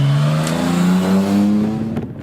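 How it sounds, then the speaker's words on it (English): Jaguar E-Type racing up the Harewood hillclimb, its engine note climbing steadily under hard acceleration through a gear, loud and close, with a brief lift near the end and no talking. "We now pick up Hayden Spedding in this superb Jaguar E-Type."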